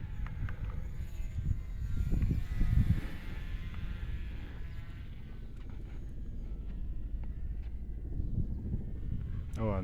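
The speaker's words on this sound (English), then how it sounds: "a nice low helicopter distracted me for a second" A low-flying helicopter outdoors gives a broad, steady rumble that swells briefly and then settles into a sustained drone.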